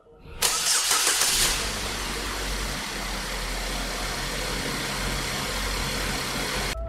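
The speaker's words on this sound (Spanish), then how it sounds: "Arrancan los motores." Car engines start up in a video game, a burst of ignition followed by a steady, fairly loud idling rumble that runs on alone to the end.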